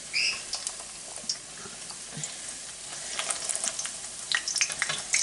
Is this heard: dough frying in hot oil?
yes